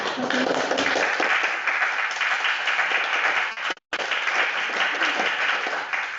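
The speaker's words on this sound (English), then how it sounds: "if I could get a round of applause" An audience applauds after a panel discussion on the decolonial legacy of the 1932 Cairo Congress. Dense, sustained clapping fills the room with one brief break near the end before continuing.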